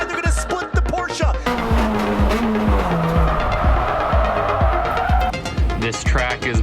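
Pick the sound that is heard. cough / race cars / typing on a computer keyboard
race cars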